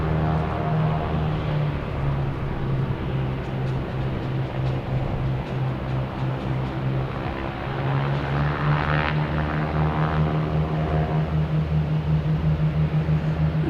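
A Japan Airlines airliner passes at Boston Logan with a steady droning engine hum and layered tonal whine that briefly brightens mid-pass before settling back, close and continuous with no talk.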